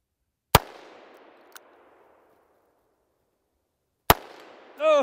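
Two sharp, loud Ruger Super Redhawk 22 Hornet revolver shots at a steel plate 75 yards away, several seconds apart, each trailing off in a ringing echo, with a faint distant metallic ping after the first and a voice beginning at the end.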